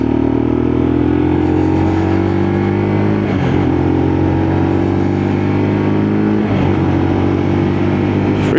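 A Lexmoto LXR motorcycle cruising down a dual carriageway, its engine droning loud and steady with a constant hum, briefly dipping twice as the rider shifts, heard without any talk.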